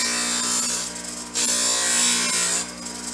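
Bench grinder grinding a hand plane blade, a loud continuous whirring grind with a steady motor tone and brief dips as the blade is moved across the wheel.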